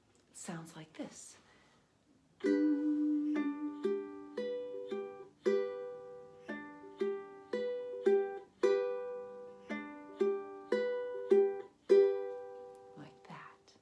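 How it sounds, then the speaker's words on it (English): Fingerpicked acoustic guitar playing Silent Night, with steady plucked notes and three-string chords in a gentle rhythm. The playing starts after a brief voice and continues alone and close, at moderate volume. "I'm going to pick up that index finger and pluck 3 strings at once."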